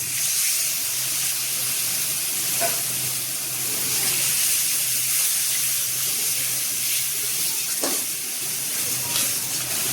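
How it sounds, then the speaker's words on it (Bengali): Water is added to a cooking pot of potol chingri (pointed gourd and prawn) curry masala, making a steady broadband sizzle and bubbling hiss with a few brief clicks, continuous and fairly close throughout. "এবার আরেকটু জল দিয়ে দিলাম।"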